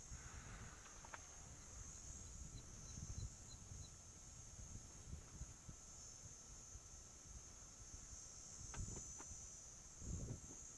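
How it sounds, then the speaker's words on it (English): Cicadas, locally called Christmas beetles, hold a continuous shrill buzzing drone at a steady level over faint outdoor rustles and a few soft knocks. "you can hear lots of the sounds and calls of the cicada, or what we also like to call locally as the Christmas beetle"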